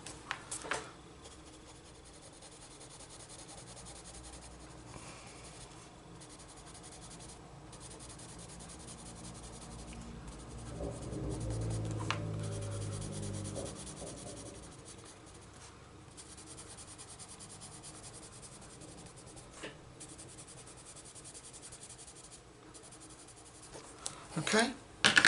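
Colouring pencil shading on paper makes a soft, continuous scratchy rubbing that rises and falls in quick strokes, faint and close, with a stretch of steadier scribbling in the middle and occasional handling noise.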